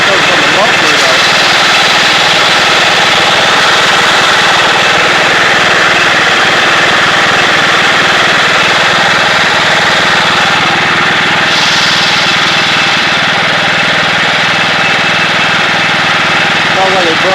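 A Craftsman YT3000 lawn tractor engine that is burning oil runs steadily and close by, giving a continuous loud drone with a rough, buzzing texture.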